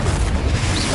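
A Confringo blasting curse going off in Hogwarts Legacy, one loud, dense, booming blast that fills the whole moment at close range.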